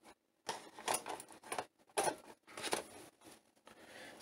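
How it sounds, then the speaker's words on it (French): Cartridge being ejected from a Tandy 1000 SX computer: a series of short plastic clicks and rattles, close and fairly quiet, in irregular bursts over a few seconds with no talk. "On éjecte la cartouche."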